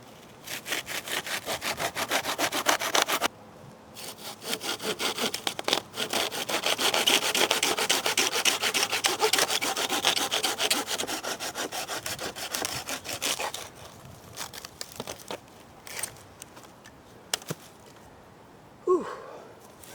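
Hand saw cutting through a piece of wood for a bow drill fire kit, steady close back-and-forth strokes that pause briefly and resume, ending with a heavy breath.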